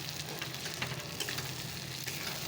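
Mutton sizzles steadily in a hot pan as it is sautéed with spices for a Bengali curry, a continuous close frying hiss with small stirring scrapes and no talking.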